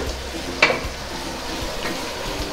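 Sliced salted onions fry in oil for a Kannur-style beef biryani, giving a soft, steady sizzle while a spoon stirs them, with one brief metallic scrape against the pot.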